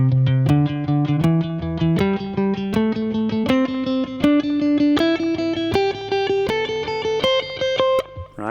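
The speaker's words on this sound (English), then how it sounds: "Because if I would play 16th notes within 80 BPM, it sounds like this" An electric guitar with a distorted tone plays a steady run of evenly spaced, picked notes that climb gradually in pitch, clear and up close with no talking.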